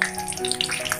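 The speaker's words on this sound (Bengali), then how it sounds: "এবার আমি এর মধ্যে একটা কাঁচা লঙ্কা, একটু কালো জিরে ফোড়ন দিয়ে দেবো।" Green chili and nigella seeds crackle in hot oil in a home kitchen, a close, steady hiss with fine scattered pops through the whole brief moment.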